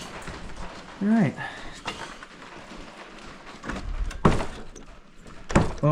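An old door in a mine camp building is forced open: a few heavy thuds and knocks of wood come up close, with someone talking and some creaking between.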